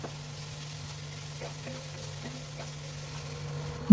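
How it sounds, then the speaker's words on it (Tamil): Poppy seeds and salt sauté in a pan with a faint, steady sizzle, stirred quietly, under a low hum, with no speech. "உப்பு போட்டுட்டு நல்லா வதக்கி விட்டிங்கன்னா கருகாது"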